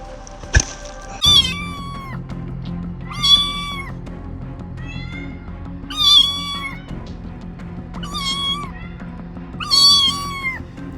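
Kittens trapped inside a pipe meowing, five loud, drawn-out cries spaced a couple of seconds apart, with a sharp metallic thunk near the start and a faint hum beneath.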